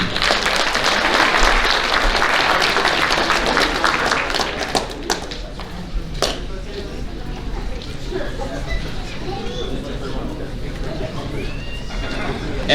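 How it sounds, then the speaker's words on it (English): Applause at a Muleshoe High School athletic banquet for the Lady Mule JV track team, loud and dense at first, then thinning into scattered claps, with voices murmuring underneath. "Let's give a round of applause to the Lady Mule JV track team."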